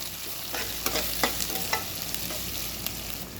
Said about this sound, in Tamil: கத்திரிக்காவை சேர்த்து நல்லா ஒரு கிண்டியிருக்காங்க.